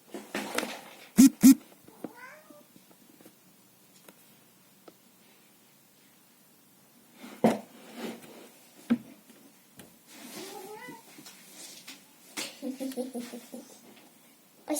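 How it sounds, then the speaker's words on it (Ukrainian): A cat meows several times close by, short and scattered, with quiet gaps and some soft rustling in between. "це мій кіт."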